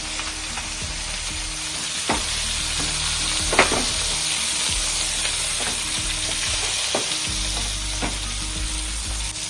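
Fish fries in oil in a pan with a loud, continuous sizzle and occasional sharp clicks of utensils against the pan. The sound is close, with no talking.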